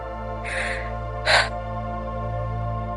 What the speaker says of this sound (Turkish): Ağızdan nefes al ver.